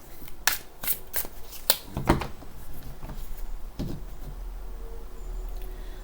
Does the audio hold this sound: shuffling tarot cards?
yes